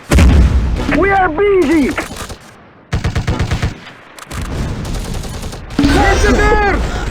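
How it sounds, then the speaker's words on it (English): Loud, close bursts of rifle and machine-gun fire crackle through a Close Combat battle at Radzymin, coming in rapid volleys with short gaps, while voices speak between them. "Receiving fire."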